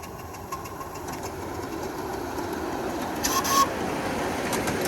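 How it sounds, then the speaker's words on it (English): A 7.5-inch gauge steam locomotive from the UK runs at a steady low rumble in the open air, with a bird briefly chirping over it. "Locomotive from the UK."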